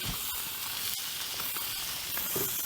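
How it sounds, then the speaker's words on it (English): London broil searing on a Blackstone griddle, a steady close sizzle and hiss of meat on the hot flat-top with faint pops, continuing evenly without talk. "I'm going to let these sear on the side for a few minutes."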